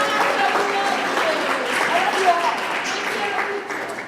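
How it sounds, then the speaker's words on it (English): An audience at a Hispanic Heritage Award ceremony applauds steadily for a woman, a dense, moderately loud patter of many hands that continues for several seconds before tapering. "So a round of applause to Marta and a great thing she does over there."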